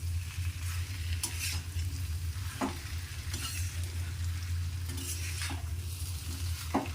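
Masala jackfruit curry is stirred in a pan over a steady low sizzle, with a few spoon scrapes and clinks against the pan and no talk.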